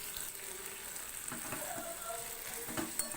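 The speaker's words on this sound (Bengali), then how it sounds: "এবার একটুখানি মশলাগুলো কষিয়ে নিয়ে আমি দেখাচ্ছি।" Spices sizzling and frying in a pan for a sweet-shop-style curry, a steady close hiss and crackle with occasional stirring scrapes, no talk.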